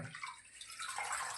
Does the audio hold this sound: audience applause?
no